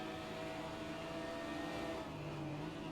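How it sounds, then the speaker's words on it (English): Race car engine in a sim racing game replay, a steady loud mid-pitched drone running continuously with a slight drop in pitch near the end, as if easing off for braking. "Let's just listen for his engine and braking."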